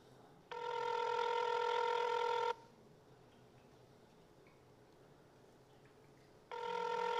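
A telephone ringback tone sounds on an outgoing call awaiting an answer: a long steady ring, a pause of several seconds, then the next ring begins, clear and alone.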